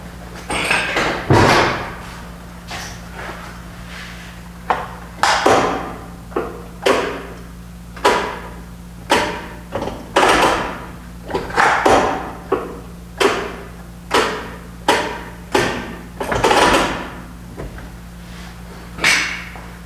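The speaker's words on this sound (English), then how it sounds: "show you the shifter moving up and down" Gear shifter of an International truck being worked up and down, a long run of sharp, close mechanical clunks and knocks repeating every second or so over a low steady hum.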